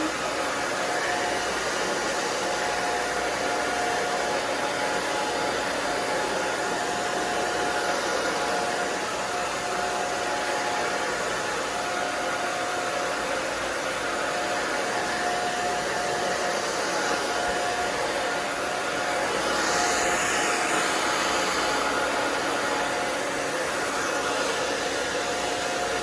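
Hair dryer blow-drying hair at a salon, a loud constant rushing whoosh that runs alone without a break throughout.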